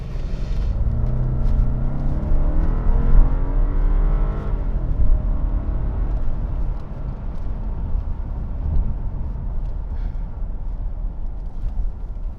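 A 2011 Alpina B7 engine in Sport Plus mode roars and climbs in pitch as it accelerates hard, then continues as a steady loud rumble with road noise.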